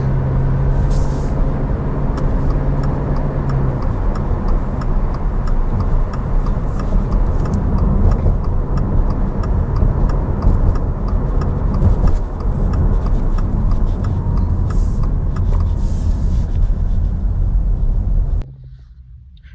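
A 2026 Subaru Crosstrek Hybrid accelerates with a steady, loud drone of engine and road noise building from inside the cabin, then cutting off abruptly near the end.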